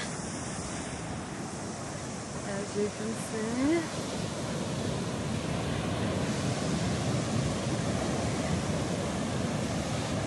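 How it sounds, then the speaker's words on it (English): Big ocean waves crash and roll onto a beach near Auckland, a steady loud roar of surf with wind buffeting the microphone, while a person briefly talks over it. "Big waves"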